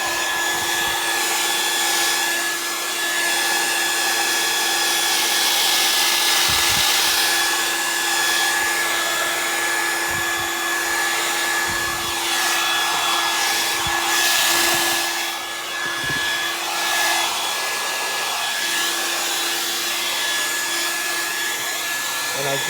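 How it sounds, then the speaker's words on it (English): A hair dryer runs continuously with a steady, loud whine, heating 3M winter window insulating film on a window, while faint bumps and shifts in pitch come and go as it is moved. "Always keep the dryer moving."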